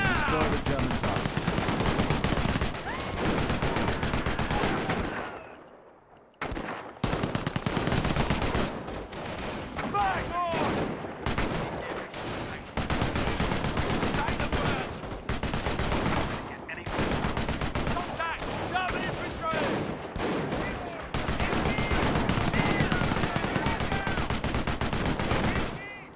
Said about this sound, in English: An MG emplacement is an excellent defense against attacking infantry.